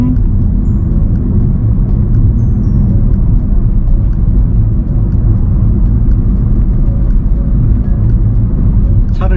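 A car driving a sharply winding road on Bugaksan mountain, its engine and tire rumble steady and close inside the cabin, with an instructor talking over it throughout.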